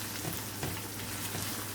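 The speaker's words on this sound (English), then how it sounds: "So the onions are sweating right now." Onions sweat in a pan on a stove with a soft, continuous sizzle, faint and steady with no talk.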